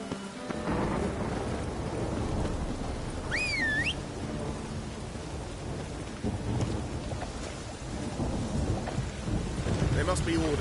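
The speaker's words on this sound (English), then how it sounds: "A storm, damn it." Thunderstorm in The Witcher 3, steady heavy rain with deep rolling thunder throughout and a brief rising whistle-like tone near the start, no talk.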